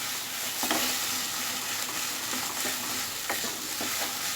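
Lote fish paste (shile bata) frying over high gas, a steady loud sizzle with occasional stirring scrapes from a spatula against the pan throughout.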